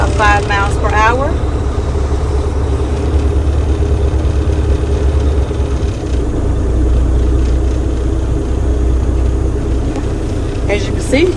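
A semi tractor-trailer pulls up slowly at about five miles per hour and brakes to a stop, its diesel engine rumbling steadily at low revs, with a brief hiss at the start and end.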